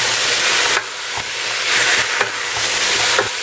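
Mushrooms, rinsed and sliced, sizzle and fry in a pan while being stirred, giving a steady hiss with scraping stirs at intervals, close and fairly loud with no talking.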